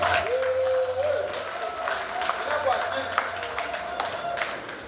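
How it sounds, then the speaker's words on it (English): Guests at a club's 30th anniversary party applaud, with scattered clapping at moderate distance under a background of voices and a sustained tone. "Please give me an applause."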